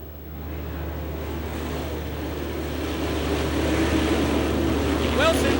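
Sprint cars race wheel to wheel on a dirt track at a 1995 Sprint Bandit showdown, a dense, continuous engine roar that slowly builds in loudness as the pack draws closer.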